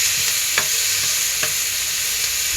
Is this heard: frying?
yes